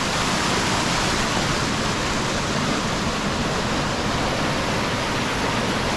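A big waterfall at the base of Iron Hill Road on the Weymouth herring run pours with a loud, unbroken rushing roar that stays constant from start to finish, with no voices.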